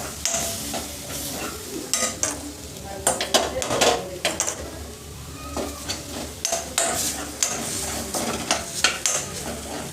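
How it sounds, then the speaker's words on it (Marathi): Red chili powder and masala roasting in a pan over a low flame, soft sizzling under repeated spatula scrapes and knocks against the pan in an uneven rhythm. "लो फ्लेमवर चांगला मसाला भाजून घ्या"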